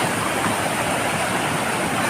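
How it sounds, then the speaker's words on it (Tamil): Oliyappara waterfall in the Anaikatti hills, swollen after rain, roars with dense, forceful rushing water, a loud and steady close-up wash with no break and no voices. "தண்ணி செம ஃபோர்ஸாக வந்துட்டு இருக்குங்க"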